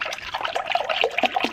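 Milk pouring steadily into a pot for corn chowder, a soft continuous liquid splash with gentle burbling, close and fairly quiet.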